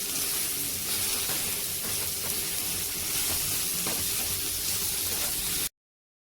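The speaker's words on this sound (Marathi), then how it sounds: "हे आपण कट करून घेतलेली भेंडी यात घालणार आहोत आणि हे देखील ह्याच्यामध्ये अशी चांगली परतून घ्यायची" Cut okra and green chilies sizzle steadily in hot oil while being sautéed, a close, continuous frying hiss with a few faint stirring clicks, then sudden silence near the end.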